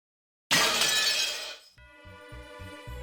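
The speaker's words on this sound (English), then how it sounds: "with a sound like glass breaking, a new demon could be seen there" A sudden loud glass shatter bursts from silence as a demon appears in the Umineko visual novel, a bright crash of breaking shards decaying over about a second, followed by a rhythmic musical pulse.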